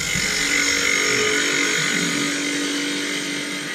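A wood lathe spins steadily while a tool cuts a concave shape into the turning piece, producing a continuous close whirring hiss with a slight tonal hum that eases toward the end.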